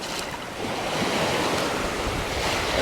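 Sea waves wash in on a beach near Naklua, a northern suburb of Pattaya, Thailand, as a close, loud rush of surf that swells and holds, with wind buffeting the microphone.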